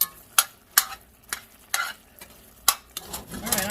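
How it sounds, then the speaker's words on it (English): Sloppy joe meat sauce in a pan, stirred with a utensil that knocks sharply against the pan every half second or so over a quiet low sizzle. "I'm just going to sit and let this simmer for a while"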